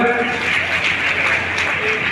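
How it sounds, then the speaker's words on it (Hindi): Applause from an audience at a BJP women's conference, a steady wash of clapping throughout under ongoing speech. "एक बार जोरदार तालियों का स्वागत करते हैं।"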